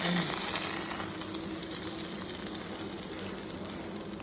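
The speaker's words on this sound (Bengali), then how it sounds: "শুকনো মরিচ আর গোটা জিরা বাগার দিয়ে এটাকে উপর ঢেলে দিচ্ছি" Hot oil tempered with dried chillies and whole cumin, poured over dahi vada, gives a loud steady sizzle and hiss with a faint pouring gush at the start.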